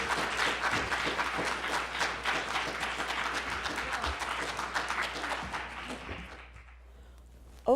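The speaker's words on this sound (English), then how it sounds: "please join me with a warm applause in welcoming Dr. Katie Coleman" An audience at a college STEM Week event applauds warmly to welcome astronaut Dr. Cady Coleman. Dense, sustained clapping fills most of the clip, then tapers off and fades toward the end.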